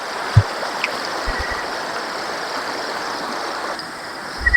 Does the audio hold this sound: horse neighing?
no